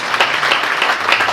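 Audience applause, a steady wash of many hands clapping at close range, filling the whole moment without a break or any voice over it.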